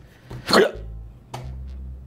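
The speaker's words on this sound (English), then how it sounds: "And you gave me the hiccups." A person hiccups once loudly and close, then a brief second catch follows, with low background hum between them.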